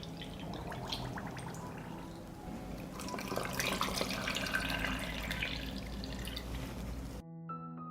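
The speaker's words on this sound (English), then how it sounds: "I will fill the jars with water to cover the peaches." Water poured from a tap into canning jars packed with peaches, a steady close splashing and trickling flow that stops abruptly near the end.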